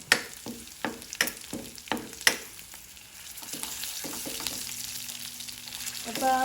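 Garlic hits a hot pan for adobong sitaw, bringing a series of sharp utensil taps and scrapes followed by a steady, building sizzle of frying.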